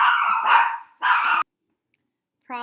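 Pet dogs bark indoors, two loud close barks in quick succession, then silence before another bark starts.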